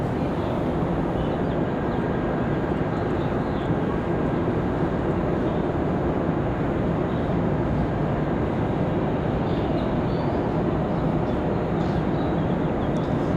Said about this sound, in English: Tonight, this 737 from the capital